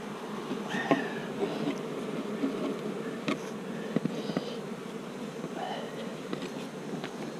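A steady, dense hum of many honeybees buzzing close by around a nucleus hive, continuous throughout with occasional louder passes and faint clicks.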